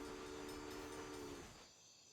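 Trains running in the Railway Empire video game, a brief hissing rail rumble with a sustained whistle-like tone that cuts off partway, faint and heard alone.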